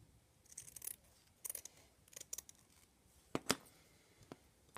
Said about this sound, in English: I'm going to cut quite a way down and then cut across.